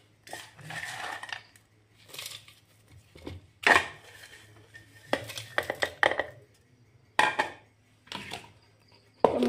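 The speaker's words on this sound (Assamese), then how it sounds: "গোটেইখিনি দি দি আছোঁ মিক্সাৰ জাৰটোত।" Biscuit pieces clatter into a mixer jar in a home kitchen, a series of short hard clinks and taps in separate bursts with quiet gaps between, close and fairly soft.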